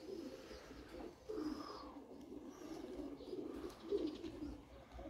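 A wood pigeon coos softly in soft repeated phrases, faint against a quiet outdoor background, with no one talking.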